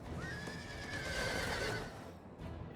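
A single horse whinny from horse archers in the video game Total War Rome 2, a long high neigh over a soft rumbling battlefield bed with hoof clatter, moderately faint.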